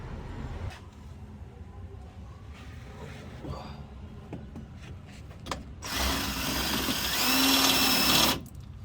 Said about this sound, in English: The drill is going to walk the whole way down.